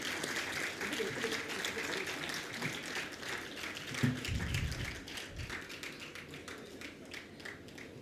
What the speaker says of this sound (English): Everyone, please give him a big clap.